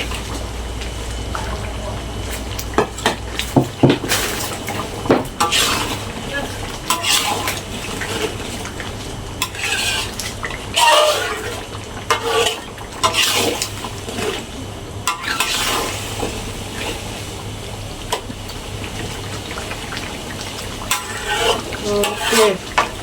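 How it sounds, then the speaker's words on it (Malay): Fried chicken being stirred into sambal in a pan, with steady sizzling and frying plus repeated scraping and clinking of a utensil against the pan, close and continuous with no talk. "Kita masukkan ayam yang kita goreng tadi."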